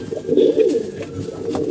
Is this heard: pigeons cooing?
yes